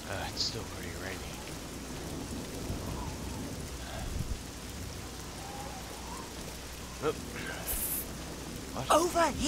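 Steady rainfall with occasional thunder rumbles in the video game Oblivion, set in a town, with a voice talking over the wet ambience near the end.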